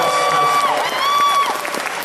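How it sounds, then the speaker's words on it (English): A convention audience at an anime convention's opening ceremony claps loudly and steadily in a short burst, with a high whoop or cheer rising over the applause. "So let's give them a huge round of applause for their support,"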